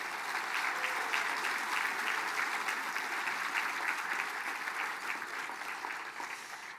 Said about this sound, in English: So let's give them one more round of applause, please.